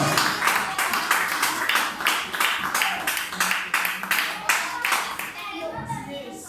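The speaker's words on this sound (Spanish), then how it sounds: "Denle un aplauso a Dios si lo cree." A church congregation at a Passover celebration service claps loudly in quick, rhythmic beats, sustained for several seconds before fading, with voices faintly beneath.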